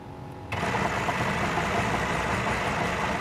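A Mercedes-AMG One's 1.6-litre V6 combustion engine fires up after a near-silent moment, then settles into a steady, loud, busy idle with a dense mechanical hum.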